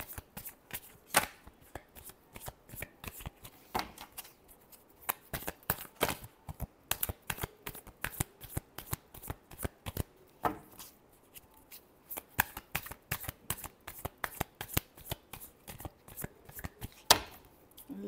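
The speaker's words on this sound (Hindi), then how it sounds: "last shuffle" Tarot cards are shuffled by hand, close and fairly quiet, with rapid irregular bursts of papery riffling and flicking and brief pauses between runs throughout.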